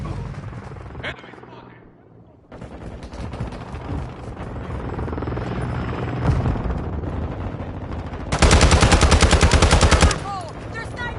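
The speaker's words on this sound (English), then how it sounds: "Hostile Overwatch helo incoming." Enemy helicopter approaching with gunfire in the video game Modern Warfare 2: bursts of rapid automatic fire over a rotor drone, building to a loud sustained roar near the end, with voices calling out.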